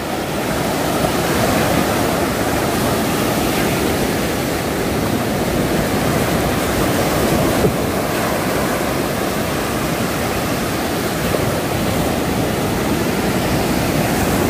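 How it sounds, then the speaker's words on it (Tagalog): Steady, roaring wash of surf, loud and continuous without breaks, like heavy waves pounding nearby. "Si Kahaw dadaan sa malalaking alon."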